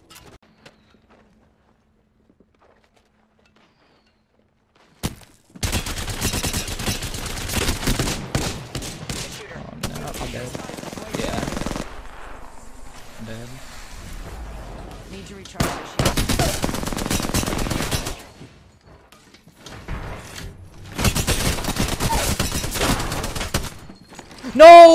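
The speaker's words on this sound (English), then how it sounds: "Spotted me. I'm taking shots." After a few seconds of silence, rapid video-game gunfire erupts in several sustained bursts with brief pauses between them, as a player comes under fire.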